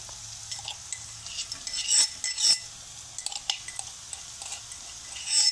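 A crushed mixture of cumin, salt, chili powder and garlic is stirred into onions in a pan of oil, with close, intermittent scraping and metallic clinks over a faint sizzle.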